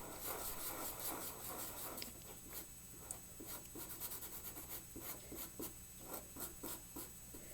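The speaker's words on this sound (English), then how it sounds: "It's definitely a lot harder with a marker than it is with pencil." Marker drawing on paper, quiet close squeaky strokes and rubbing scratches in irregular short bursts, some quick and repeated, with no talking.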